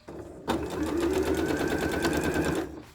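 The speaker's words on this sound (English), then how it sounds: "you're going to sew straight and close to the seam" Electric sewing machine running steadily for a couple of seconds, stitching straight along a seam on a pocket facing for a Butterick B5818 garment; close, even mechanical whir after a brief pause, no talk.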